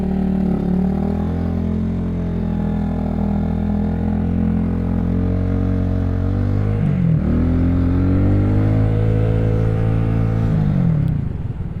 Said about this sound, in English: Figured bring the bike out today and do a highway run.